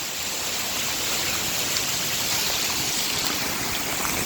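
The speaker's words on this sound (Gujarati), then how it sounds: "આ અમારા સ્લેબ ઉપરથી જે પાણી પડી રહ્યું છે એ પણ અંધાધાર પાણી" Heavy monsoon rainwater pours off a roof slab in Gujarat, a loud continuous rushing splash with dense broadband roar that stays steady throughout, no talk over it.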